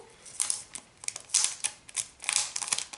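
Close crinkling and tearing of plastic wrapping and tape on a trading card booster pack, coming in quick irregular bursts of crackle with brief pauses between pulls.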